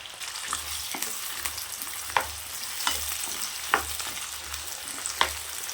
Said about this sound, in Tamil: எண்ணெய் சேர்த்துக்கலாம் கத்திரிக்காய் சேர்த்துக்கலாம்